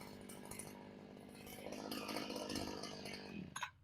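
A cheap 43cc Temu chainsaw engine runs with a steady buzzing two-stroke drone that rises slightly in the middle and then sputters down near the end, heard close but at low level.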